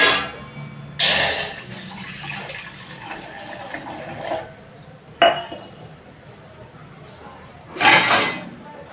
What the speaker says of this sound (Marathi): आता आपण गॅसवर एक पातेलं ठेवलंय त्यामध्ये एक ग्लास पाणी ओतते